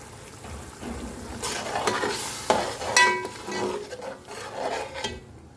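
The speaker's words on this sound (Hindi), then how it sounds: "इसको थोड़ा सा मैं भून लेती हूँ।" Sajji rice masala frying in a pan, a steady sizzle with repeated scraping and stirring strokes of a spoon against the metal, close and fairly loud, with no voices.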